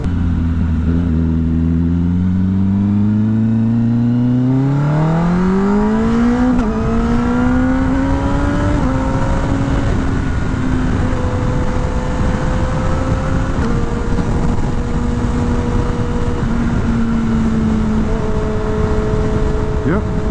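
A Kawasaki ZX-10R sport bike engine revs up through the gears while riding, rising pitch sweeps then settling into steady cruising, loud and continuous with wind noise throughout.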